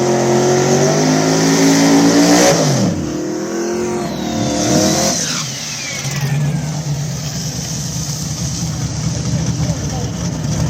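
A nitrous drag racing car at a drag radial and street car event in Mooresville accelerates hard, its engine note sweeping up through gears and then fading as it pulls away down the strip.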